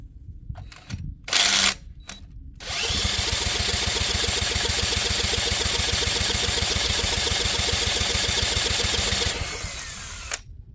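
A scrapped Tecumseh 3hp dual-output small engine fed brake cleaner sputters to life after a couple of short pulls, then runs loud and steady for several seconds before dying away.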